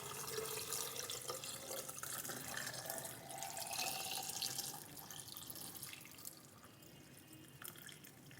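Liquid poured into a small bottle of salted mangoes in a home kitchen, a steady running, trickling pour with dripping, moderately close and continuous with no talk.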